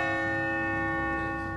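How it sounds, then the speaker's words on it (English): Church bells of Sacred Heart ringing over Grand Rapids' west side, a loud sustained bell tone with steady ringing overtones that slowly fade, with no voices. "The bells have been a fixture of Grand Rapids' west side"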